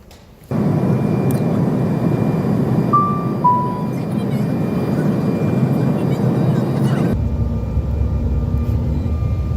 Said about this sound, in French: On est encore dans l'avion.